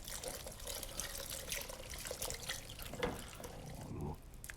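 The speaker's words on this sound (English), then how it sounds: "I think we need to put some water in as well. A little bit of water." Water is poured into a simmering beer and venison stew, a soft, steady trickle and splash that stays faint throughout.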